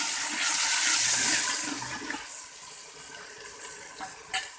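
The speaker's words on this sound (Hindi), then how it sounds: "पानी डालेंगे" Water is poured into a cooking pot for chicken biryani, gushing steadily for about two seconds, then dropping to a quieter trickle with a few small splashes and clinks.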